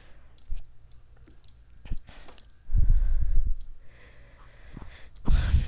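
Computer mouse clicks, a handful of short sharp taps spread unevenly, with soft handling rustle and thumps between them, close and fairly quiet.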